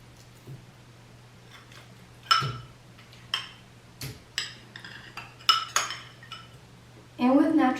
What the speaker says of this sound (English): We're just going to start by adding all the ingredients to the bowl except the flour